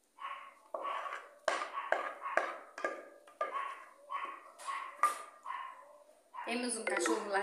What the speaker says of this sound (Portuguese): Temos um cachorro latindo no fundo do vídeo